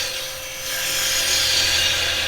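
A carbide chisel cuts scrap wood spinning on a lathe, producing a close, continuous hissing, scraping whir that swells slightly partway through.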